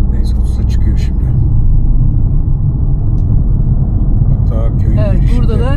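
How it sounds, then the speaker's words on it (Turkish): Rental car on Corfu with its engine roaring steadily while driving, a loud continuous low rumble throughout, with people talking over it. "Bu arabanın bağırtısı o."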